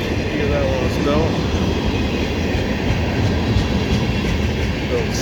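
A CSX maintenance-of-way train hauling old gondola cars, including Seaboard Coast Line, Conrail and C&O cars built in the 1960s, rolls steadily past at close range with continuous rumble, wheel clatter and occasional faint squeals.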